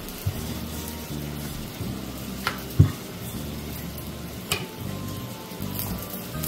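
A sattu paratha sizzles steadily on a hot pan after being flipped, a soft continuous frying hiss with a few faint clinks and taps, heard close and alone.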